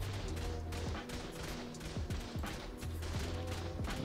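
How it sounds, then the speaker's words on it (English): Rapid automated turret fire at a base in the ARK survival game, a dense continuous clatter of repeated shots and impacts over a steady mechanical hum, with no talking. "And they're like, just trying to shoot us both."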